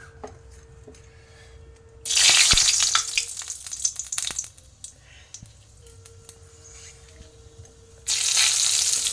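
Dried chillies and panch phoron hit hot oil with a sudden loud sizzle that fades to quieter crackling, then a second burst of hissing near the end.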